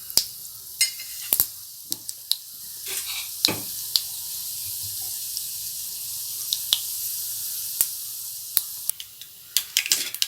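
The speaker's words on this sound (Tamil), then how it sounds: "கடுகு நல்லா பொரிஞ்சதும்" Mustard seeds spluttering in hot oil in a pan for a rava snack: a steady bright sizzle with scattered sharp pops and crackles throughout, close and fairly loud, with no talking.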